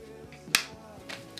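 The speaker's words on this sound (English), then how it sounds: "That clap is so that I can just find the waveforms and line them up" A single sharp hand clap used as a sync marker, crisp and close, followed by a couple of faint softer ticks in a quiet room.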